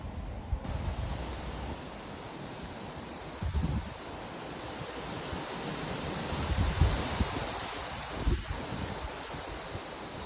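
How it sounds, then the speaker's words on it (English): Strong wind gusting across a campsite, a steady broadband roar with louder surges near the middle and toward the end, close to the microphone with no one speaking. "Super windy."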